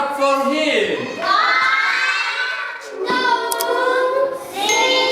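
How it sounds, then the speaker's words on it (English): Schoolchildren in a classroom cheer and shout together in a loud, sustained burst that dips briefly and swells again, excited young voices overlapping throughout. "Clap for him."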